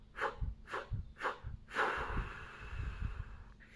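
Slow, audible breaths are drawn in and let out in a calm vocal breathing exercise done without voicing, close and gentle, several short inhalations followed by a longer exhale.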